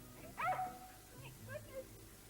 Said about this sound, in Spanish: Esta escena de bienvenida entre Marilyn y el perro de la familia